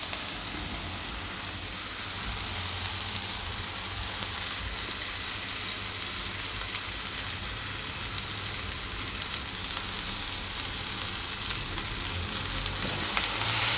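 Ground peanut and sesame masala mixed into cashew and banana curry in a frying pan, a dense continuous sizzle and crackle with soft stirring underneath, steady and close throughout.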